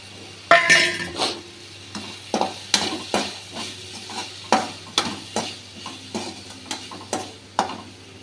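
Repeated scraping and clinking of a utensil stirring drumstick leaves with pepper and salt in a pan over a soft sizzle on low heat, in an irregular rhythm of strokes, close by.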